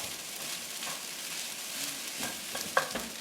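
Rice stir-frying in sesame oil on high heat gives a soft, steady sizzle with scraping stirs and flips, quiet and close, ending in a small clink.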